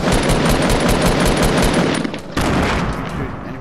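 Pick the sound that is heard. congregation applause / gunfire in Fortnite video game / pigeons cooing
gunfire in Fortnite video game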